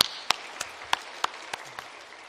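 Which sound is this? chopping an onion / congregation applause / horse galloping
congregation applause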